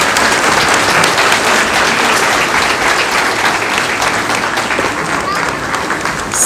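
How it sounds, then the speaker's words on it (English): Audience applause for the Dandenong council mayor at a council federation gathering, a dense, steady wash of many hands clapping that fills the whole stretch at full loudness and tapers only slightly at the end. "Let's all give her a sounding round of applause"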